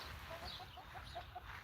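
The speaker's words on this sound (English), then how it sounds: "I'm standing out here with my chickens" Backyard chickens clucking outdoors in the snow, a run of short, regular clucks at close range over steady low background noise.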